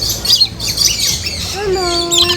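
Parrots at the Lagoon water theme park in Malaysia let out loud, close, harsh squawks in quick bursts, with a few shorter chirps and a whistled tone near the end.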